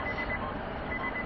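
A vehicle's reversing alarm beeps in two short bursts of repeated tones over steady engine and road rumble, heard from inside a car near Topeka State Hospital.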